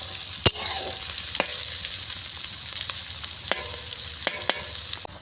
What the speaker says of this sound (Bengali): চিকেনের জন্য পেঁয়াজ ভাজা চলছে।